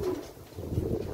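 An injured racing pigeon coos softly, a couple of low murmuring calls close by with no speech, against a faint background.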